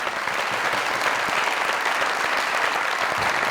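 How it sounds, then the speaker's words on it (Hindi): Continuous studio audience applause on a Pakistani comedy talk show, thick and even at moderate volume with no speech over it. "जोरदार तालियां।"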